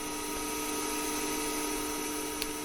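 A CNC lathe turns brass parts at 3000 RPM, a steady, loud machine whine with constant tonal hum and no breaks, close by.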